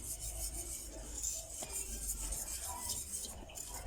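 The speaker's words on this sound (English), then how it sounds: "Give it a stir." A spoon scrapes and stirs a thick burfee mixture with cream in a pot, soft rubbing and occasional light clinks of utensil against metal, close and steady with no talk.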